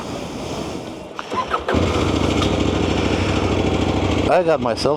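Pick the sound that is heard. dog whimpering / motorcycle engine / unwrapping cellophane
motorcycle engine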